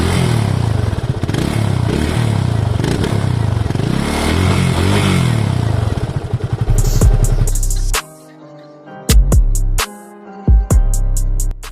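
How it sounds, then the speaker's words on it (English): A BS6 Yamaha FZS 25 motorcycle idles loudly up close with a rumbling exhaust note. Then the sound breaks into abrupt clattering, silent gaps and sharp bursts near the end. "Now let's check out the exhaust note of the bike before heading out for a ride."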